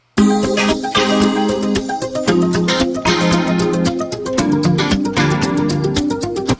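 A loud, dense pop final chorus playing in full: strummed guitars over a steady driving drum beat with sharp cymbal hits, continuous throughout with no talking.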